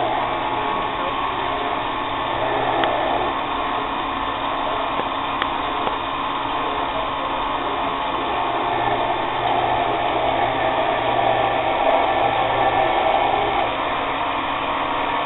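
A drill bores into metal lubricated with WD-40, throwing out shavings, with a steady, close whirring drone that holds at an even level and swells slightly toward the end.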